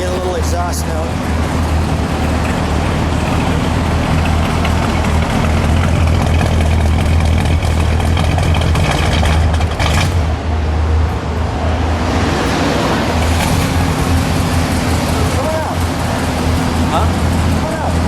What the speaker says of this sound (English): I get a little exhaust note.